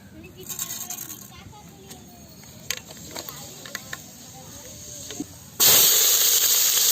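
Fenugreek seeds go into hot oil in an outdoor village kitchen. A sudden loud, sustained sizzle bursts in near the end, after quieter stretches of talk and scattered clinks of cooking.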